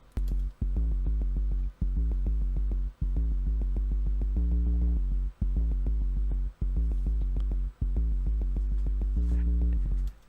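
Deep sub-bass synth tone from the Massive preset Be Low, playing a loud, steady pulsing pattern of sustained low notes with short rhythmic gaps, alone with no voices.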